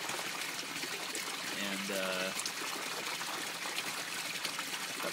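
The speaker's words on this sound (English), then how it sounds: "And so there's a siphon breaking." Water trickles and splashes steadily as the siphon breaks in an aquaponics grow bed fed by a 3,200 gallon per hour pump and filled with large gravel, with someone speaking briefly over the flow.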